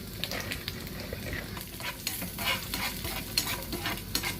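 Mixed plums and cashews stirring and lightly roasting in ghee in a pan, a steady close sizzle with continuous scraping stir strokes, alone without talk.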